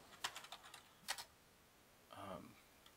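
Computer keyboard typing during a flight controller firmware update, a few quick faint key taps followed by a brief louder clatter like a final keystroke, close and quiet.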